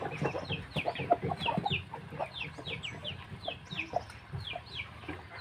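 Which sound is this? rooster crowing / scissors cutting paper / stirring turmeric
rooster crowing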